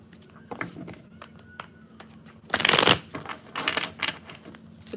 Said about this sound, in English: Just want to do a little bit of shuffling before we get started.